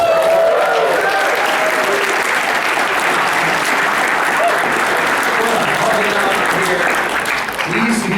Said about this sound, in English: Another round of applause for Game Grumps